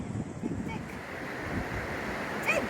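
Surf washes steadily onto Sango Sands beach in the Scottish Highlands, a soft and continuous rush mixed with wind buffeting the microphone. Faint voices are present under the waves.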